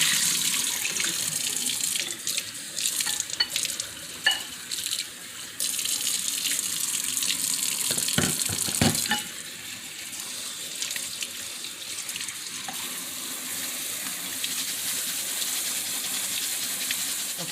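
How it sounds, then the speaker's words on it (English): Rice is rinsed under a running kitchen tap, giving a continuous hiss of water splashing into a sink, with brief shifts and gurgles as the grains are swirled and the water drained. "So you're going to rinse it a couple times until that water gets clear."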